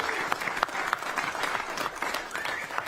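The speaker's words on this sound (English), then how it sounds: "can we have a round of applause for Tony Ferguson" An audience at a fight launch press conference applauds Tony Ferguson with dense, steady clapping from a crowd, plus a few louder claps and faint voices mixed in.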